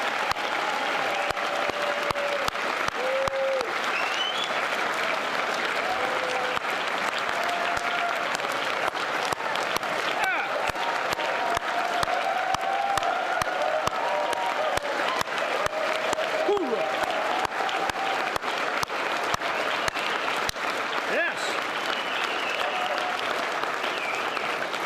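A crowd at a sendoff ceremony for departing soldiers of the 1st Battalion, 188th Air Defense Artillery applauds loudly and continuously, with cheers and shouts rising over the dense clapping.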